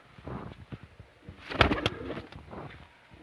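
A Van pigeon bred from a çakmaklı and white Van bird coos close by, a few soft throaty calls swelling to a louder burst midway, with a light flutter and no voices.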